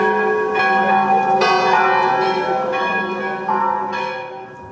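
A church bell tolls steadily with long ringing overtones, several strikes blending into a sustained resonant hum, loud and clear with no voices.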